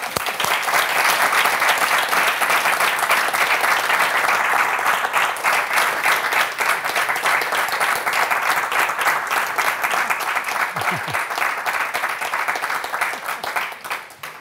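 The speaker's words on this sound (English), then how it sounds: "We all clap in our hands." Sustained audience applause at a science talk on insect-bacterial symbiosis, a dense, even roll of many hands clapping for about fourteen seconds before tapering off at the end.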